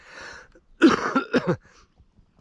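Two or three harsh coughs from a person with a cold, close to the mic, following a short stretch of quiet, muffled sound.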